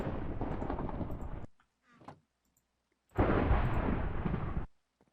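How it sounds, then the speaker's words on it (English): A video game thunder effect in a Minecraft-style setting, two loud rumbling bursts about one and a half seconds each, both cut off abruptly, with a brief faint noise in the quiet gap between them. "It keeps not entirely playing out the entirety of the thunder sound"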